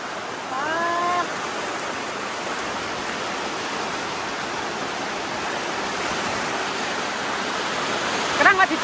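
Heavy rain pours steadily in a broad, even hiss that fills the whole clip, with a brief louder clatter near the end.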